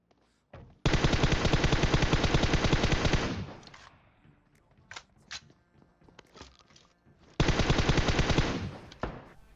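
Automatic M4 rifle fire in the mobile battle royale game PUBG Mobile: a long sustained loud burst, a pause with scattered smaller shots and clicks, then a second heavy burst, with no talking.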